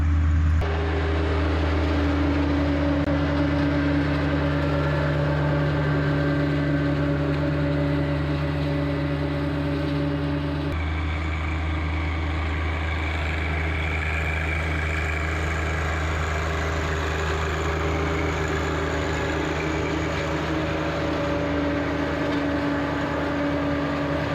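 A tractor-driven flail mower cutting thick clover gives a continuous low engine drone with steady humming tones and rough mechanical rumble, heard from fairly close and unbroken throughout, without any talk.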